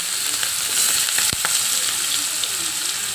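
Onion and green chilli pieces frying in a pan, a bright continuous hiss of sizzling oil with a sharp clack of a utensil in the middle, near and steady with no voices.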